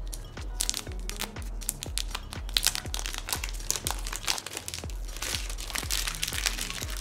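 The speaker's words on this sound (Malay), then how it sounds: "Sementara itu kita buka dahulu plastik ini." Plastic wrap on a new Redmi Note 9S phone crinkles and crackles nonstop, close-up, with a steady run of sharp rustles and low thumps of handling.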